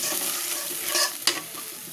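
A short burst of sizzling and stirring as a little water hits spices frying in a pan, close and steady with a sharper spit near the end.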